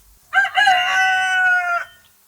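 A rooster crows once, a loud, close, drawn-out cock-a-doodle-doo lasting under two seconds, heard alone against a quiet background with no talk.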